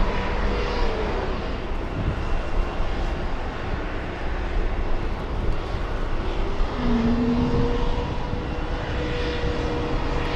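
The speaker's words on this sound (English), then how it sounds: "this is the packed Cessna" A packed Cessna propeller plane at Boston Logan makes a sustained engine drone and rumble, moderately loud and steady, with a brief tonal rise near the end.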